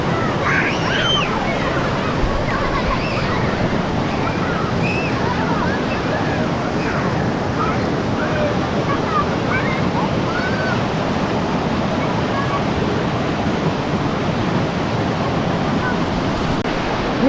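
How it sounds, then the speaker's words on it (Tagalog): Rushing water of the Bagsit River in Palauig, Zambales: a loud, continuous broadband roar, close and unbroken, with faint voices now and then beneath the flow. "Ilog sa Zambales."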